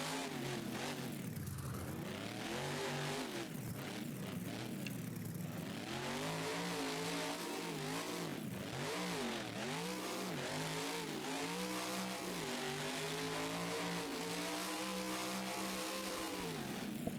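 A monster truck engine in BeamNG Drive revs up and down repeatedly, its pitch rising and falling in loud, continuous surges with no voices.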